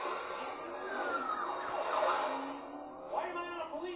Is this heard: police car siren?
yes